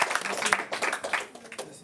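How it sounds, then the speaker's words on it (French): Studio audience clapping on a French sports talk show, a short burst of uneven, pulsing applause that rises and dips over under two seconds. "on applaudit, on peut vous applaudir"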